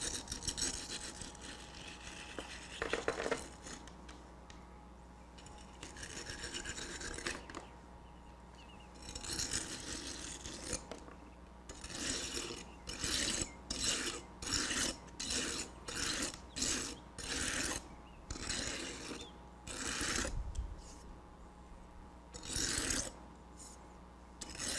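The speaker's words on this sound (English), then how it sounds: "Now I'm going to use my metal strike-off bar to strike my measure off" A metal strike-off bar drawn across fresh concrete in an air-content pressure-meter measure, making a faint series of rhythmic, gritty scraping strokes, each short and repeated in a quick run.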